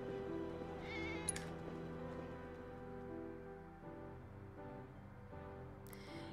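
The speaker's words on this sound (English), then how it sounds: "He keeps trying so hard to like get these cats to like come to him, and they just kind of run off." Faint cat meows in the Final Fantasy 7 Remake video game drift over a steady, quiet musical backdrop, with a couple of soft high chirps near the start and end.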